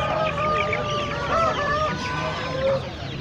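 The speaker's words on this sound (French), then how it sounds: "c'est les poules chinois" Chinese hens with feathered legs cluck and chatter continuously at close range in a pen at an agro-pastoral fair in Bafoussam, with several birds calling over one another amid a busy crowd murmur.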